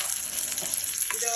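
A brief burst of tempering mustard seeds, curry leaves, chili and asafoetida sizzling in oil, a dense steady hiss with a quick stir clink near the end.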